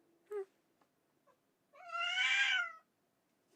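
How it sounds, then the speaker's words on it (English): A cat gives one short chirp, then after a quiet gap lets out a single clear, drawn-out meow close by. "Oh. Cat."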